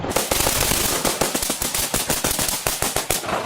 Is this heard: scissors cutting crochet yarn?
no